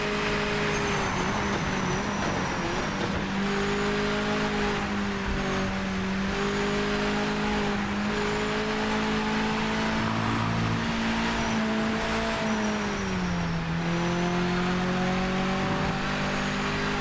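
Race car engine in the Project Motor Racing video game holding a steady high drone with harmonic pitch shifts as it changes speed through a corner and down a straight, loud and continuous throughout.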